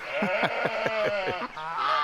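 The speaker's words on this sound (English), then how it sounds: "The geese here, we've got a number of them looking for their grains" Several geese on a farm honk close by in a rapid, repeating series of nasal calls, overlapping one another and continuing without pause.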